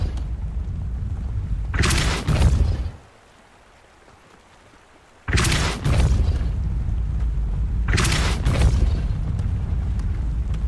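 Spell effects from Hogwarts Legacy: three loud whooshing bursts, each a booming rush of noise lasting about a second, over a continuous low rumbling game background that drops out briefly between the first and second blasts.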